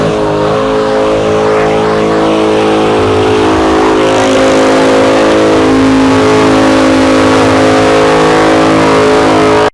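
A Dodge Hellcat revs hard at a crowded car meet, its engine holding a loud, sustained roar with strong harmonic drone for the full stretch, tire squeal and crowd noise faintly mixed in.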